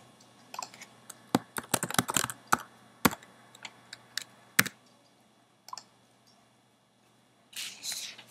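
Typing on a computer keyboard while entering a bank name for exported presets: irregular quiet keystrokes and clicks, close, with pauses and a short rustle near the end.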